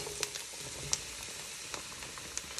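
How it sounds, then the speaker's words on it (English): Zucchini and eggplant hitting a pan over slightly lowered heat give a quiet, steady sizzle and crackle, with scattered sharper pops. No one talks, and the pan sounds close. "And now we'll add in all the veggies, all in one shot."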